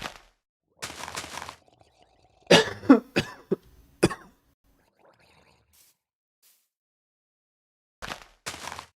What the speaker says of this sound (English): I apologize for all the coughing I'm doing today.